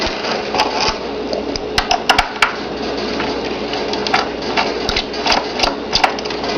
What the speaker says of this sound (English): So we can undo these screws.